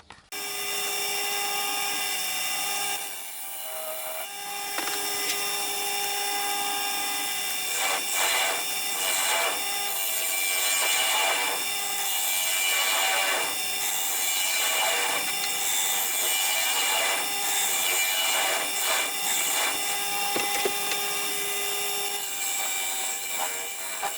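Wood lathe spinning while a tool cuts a mortise in a turned urn piece: a sustained bright scraping and shaving rasp with a steady hum, close and continuous with slight fluctuations, no talking.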